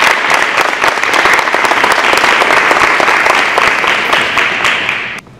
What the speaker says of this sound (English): So one more big round of applause for Spencer.